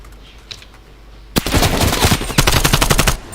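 Rapid submachine gun bursts from mid range in a competitive esports shooter match, loud sharp volleys firing repeatedly after a quiet lead-in with faint background noise.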